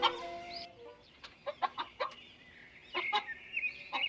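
Cartoon chickens on a small farm cluck in a quick series of short, bright calls, with one longer call at the start and a few more toward the end. The calls are close and fairly quiet.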